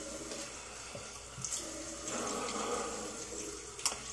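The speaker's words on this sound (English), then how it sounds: "Why won't this soap rinse off more?" Running water from a tap rinsing Williams shaving soap off, a steady soft splashing stream with a few brief drips and knocks, close and quiet.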